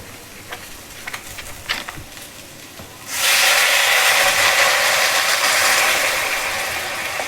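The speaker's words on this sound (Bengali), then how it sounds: "জিরার গুঁড়া ধনিয়ার গুঁড়া দেওয়ার পর এটা একটু ভালোভাবে ইয়ে করছি মানে একটু রান্না করছি যাতে মশলাটা ভালোভাবে মিক্সড হয় তো এখন এটাতে দিয়ে দিব জল" Water hits a pan of cumin and coriander powder masala frying for a rohu fish curry, bursting into a loud, sustained sizzle that slowly settles, after a few quieter cooking clicks and scrapes.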